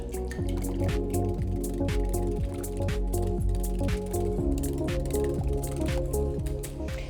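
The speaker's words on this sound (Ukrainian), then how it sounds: "Тепер сюди я додаю одне яйце. знову ретельно перемішує." Pumpkin batter with a freshly added egg being stirred in a bowl, giving steady wet squelching and dripping sounds with faint clinks of the utensil, continuous and close throughout.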